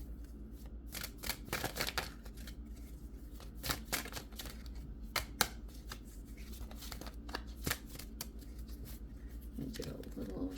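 Tarot cards being shuffled by hand, a long run of crisp papery riffles and flicks in irregular bursts, close and quiet, with a voice speaking at points.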